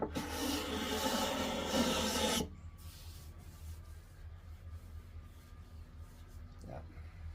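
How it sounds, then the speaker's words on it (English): A hand scraper is drawn across a walnut table surface, making a loud, continuous rasping scrape for a couple of seconds before it stops, followed by quiet room tone and a brief faint rub. "You could scrape the entire surface and not even use any sandpaper"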